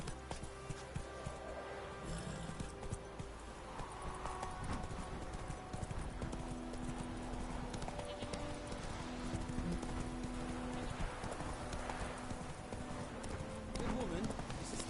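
Roach, a horse in The Witcher, trots with steady clip-clopping hooves over background game sounds, while a voice talks over the hoofbeats.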